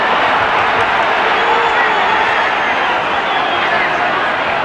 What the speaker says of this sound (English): the crowd feeling it and responding.